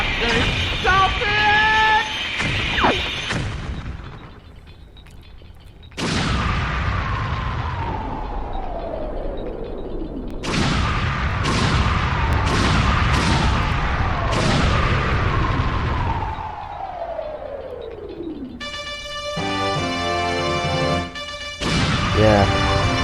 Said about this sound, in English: the virtual console of this game really butchered that explosion